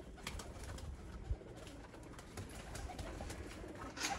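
Red-eyed breeder pigeons coo softly in a loft, faint repeated bird calls over a quiet background with a brief thump partway through.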